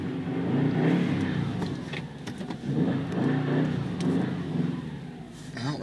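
Subaru WRX with a custom downpipe, engine idling with a low grumble and rising in a few gentle revs, steady and close, with no talk over it.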